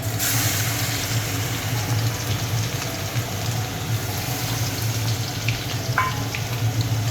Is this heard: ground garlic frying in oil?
yes